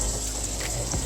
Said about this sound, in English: I'm just going to fill up the container with some water